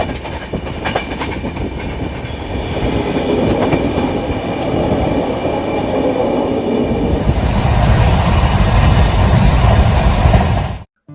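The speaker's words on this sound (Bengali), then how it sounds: "একদম এক্স্যাক্ট টাইমে ট্রেন কিন্তু প্ল্যাটফর্ম থেকে রওনা হয়ে গেল রাঁচির উদ্দেশ্যে" A passenger train pulling out of a station platform on a night run bound for Ranchi, its steady loud rumble and rail noise continuous and building slightly as it rolls along, with no voices.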